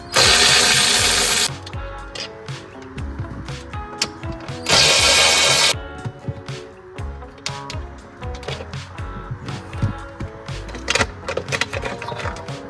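Power tool spins out the 8mm bolts holding a Mercedes 5-speed transmission control unit in two loud bursts, with metallic clinks, rattles and handling noises between and after them, close up.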